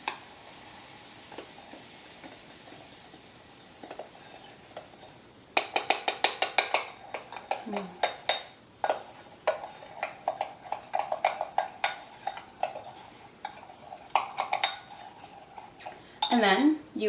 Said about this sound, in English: Stir it until it stops fizzing.